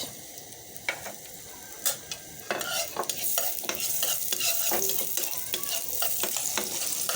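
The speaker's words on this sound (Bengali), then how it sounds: "পেঁয়াজটাকে ভালো করে ভেজে নেব।" Onion fries in oil with garam masala in a pan, a steady close sizzle that swells as it goes, broken by repeated spatula scrapes and knocks, with no talking.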